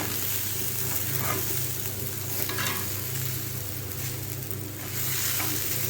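Rice for biryani fries in a pan with a little sugar, salt and ginger-garlic paste, giving a continuous close sizzle with scraping stir strokes recurring throughout and no talking.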